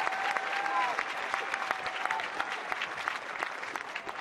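Crowd at a school rugby match between Bishops and Rondebosch, cheering and clapping in a dense steady roar, with a whistle-like tone early on and a commentator's voice faintly underneath.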